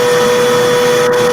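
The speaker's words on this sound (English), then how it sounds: "Vacuuming up the dirt." Vacuum cleaner sucking dirt from a G3 iMac keyboard, a loud steady whine with a constant hum and airy hiss, continuous throughout with no speech.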